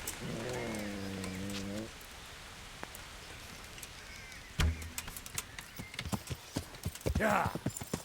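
Horse hooves clip-clop in the video game Kingdom Come: Deliverance, a steady run of hoofbeats mixed with rain-like patter, with a horse's whinny near the start and brief voices later.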